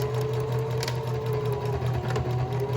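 A sewing machine back-stitches fabric with a steady, close mechanical hum and rapid needle chatter that runs without a break.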